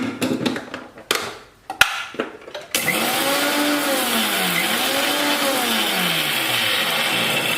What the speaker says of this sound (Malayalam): മിക്സിക്കകത്തിട്ട് അടിച്ചെടുക്കാൻ പോകണം, പൊടിക്കാൻ പോകണം.